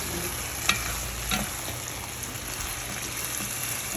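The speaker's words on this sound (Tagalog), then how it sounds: "Haluin natin para kumalat si paminta." Chicken liver fries in a pan with tofu and seasoning while being stirred, producing a steady sizzle broken by a few sharp utensil scrapes and clicks near the start.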